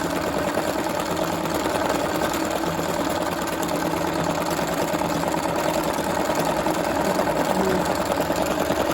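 A sewing machine stitching a zigzag around a fabric edge while working on pebble and stone shapes, giving a steady, fast mechanical whirr and chatter close by for the whole stretch, with no pauses.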